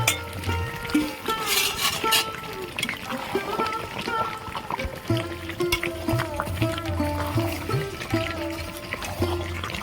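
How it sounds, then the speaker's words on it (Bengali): Chicken curry with potatoes being sautéed in a pan, a continuous sizzle and frying hiss with repeated stirring scrapes, heard under a voice. "ভালো করে আমি কষিয়ে নিয়েছি"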